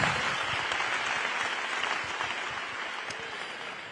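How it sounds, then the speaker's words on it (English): Crowd at an International Olympic Committee welcome event for athletes in Paris breaking into steady applause, dense clapping that holds for several seconds and fades slightly toward the end. "Grand applaudissement."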